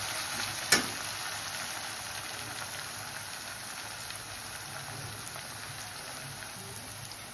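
Onions frying in a pan for chicken curry, a steady close hissing sizzle throughout, broken once near the start by a single sharp click.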